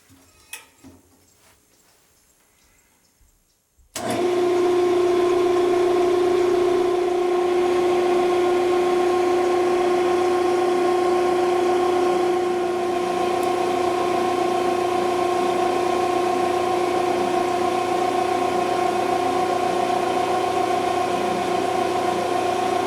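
A small, precise pen-turning machine shaping a slimline wood pen blank starts after a few quiet seconds, then runs as a steady, loud, even whine and hum with no talking.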